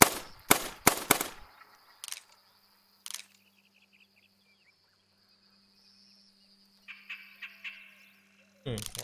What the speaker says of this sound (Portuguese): Já dá uns tiros de alerta aqui